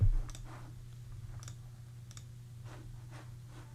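A few faint, sparse keystrokes on a computer keyboard, typing an entry into a grocery list app, tapped at irregular intervals over a steady low hum in a quiet room.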